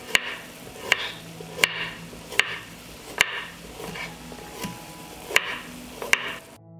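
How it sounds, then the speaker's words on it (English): A knife chops through a carrot on a cutting board in sharp, separate strokes, about eight cuts at an uneven rhythm, close and clear with no talking. "I will cut 1 carrot."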